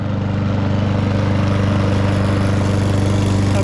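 A petrol lawn mower engine runs steadily at a close, loud, even idle with a regular pulsing throb and no pauses.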